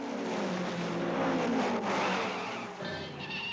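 A cartoon race car engine roars during an auto race, a loud whining rev that rises and falls as the car speeds along, with no talking.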